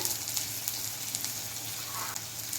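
Chili, turmeric and cumin powder with ginger-garlic paste fry in a pan for a fish roe dish, giving a steady, close sizzle with faint stirring.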